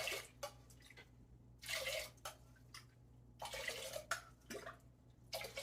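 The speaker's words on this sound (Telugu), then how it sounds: "సో, 1కి 2 గ్లాసుల చొప్పున వాటర్ పోస్తున్నాను." Water poured glass by glass onto rice and moong dal in a pressure cooker, coming in several short splashing pours separated by pauses, fairly quiet and close, with no talk.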